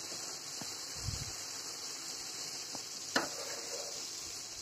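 Vegetables for dal khichdi fry in a pan with a steady, quiet sizzle. A few soft stirring knocks and a sharper clink cut through now and then. No one speaks.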